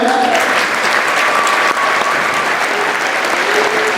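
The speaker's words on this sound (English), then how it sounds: "And one more round of applause for our high school band." Sustained applause from a concert audience for a high school band at a school winter Christmas concert, a dense steady wash of clapping throughout with faint voices mixed in.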